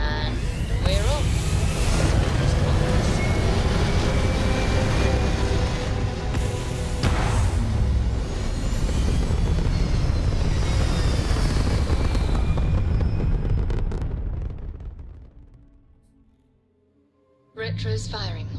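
Spaceship lifting off and firing its retro rockets in Starfield, a loud sustained roaring thrust with layered rumble and hiss for about fourteen seconds, then fading to near silence before a brief burst returns at the end.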